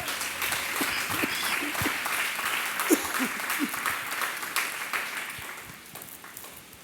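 A church congregation claps during a Spanish-language sermon, producing a dense, sustained round of applause that fills the room and slowly fades, with a few voices calling out beneath it.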